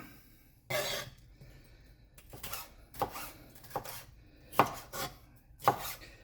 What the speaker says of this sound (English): there's different ways of chopping peppers